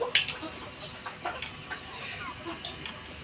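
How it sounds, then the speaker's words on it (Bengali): Soft, scattered clucks and short chirps from chicks eating dry bran, irregular and fairly close, over a low background rustle. "বাচ্চাগুলো শুকনো বসি খাচ্ছে"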